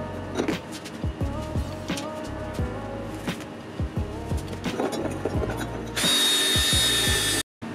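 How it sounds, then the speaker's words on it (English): A copper wire wheel scrubs grease and grime off 1972 Honda CB350 motorcycle parts, with scraping bursts and clicking among the rough noise, then a loud steady hiss near the end, close up. "Time to use our copper wire wheel to remove the year's worth of grease and grime."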